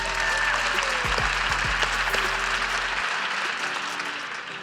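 A live audience bursts into loud, sustained clapping that fills the room, holding steady for several seconds before tapering slightly toward the end.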